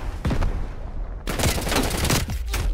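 Gunfire from an MP5 in a video game, loud close bursts of rapid shots breaking out after a short lull, repeated fire in quick succession.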